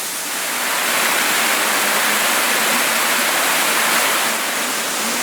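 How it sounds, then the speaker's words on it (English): A small waterfall in the Blue Mountains near Lawson, a steady, loud broadband rush of falling water heard close by, continuous and unbroken with no voices. "And just see the little waterfall disappearing over the edge there."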